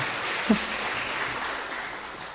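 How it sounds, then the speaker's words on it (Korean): Congregational applause in a church during an afternoon worship service, a steady wash of clapping throughout with a brief thump near the start. "박수 한번 쳐드립시다."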